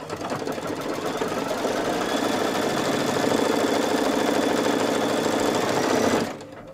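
An embroidery machine stitches a step on a Dachshund tote, a steady, loud mechanical whirring with rapid needle rhythm running continuously, then cutting off abruptly near the end.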